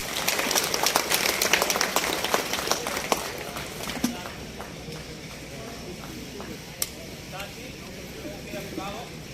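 An audience at a Bihar political gathering applauds to welcome a BJP leader, a dense patter of clapping that is loudest at first, then thins out into scattered claps over a murmuring crowd.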